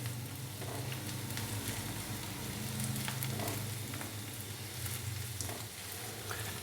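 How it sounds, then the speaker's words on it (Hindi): Ginger and garlic paste lightly frying in a pan for aloo paratha filling, a steady soft sizzle with faint stirring clicks, close and alone. "अदरक और लहसुन के पेस्ट को हमने हल्का सा भून लिया है।"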